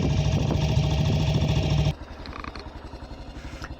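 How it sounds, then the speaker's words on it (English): BSA C15 single-cylinder motorcycle engine running with the clutch pulled in, loud and steady for two seconds, then dropping to a quieter, even idle-like throb with faint higher mechanical ticks. "That's the clutch pulled in and there's no clatter from it."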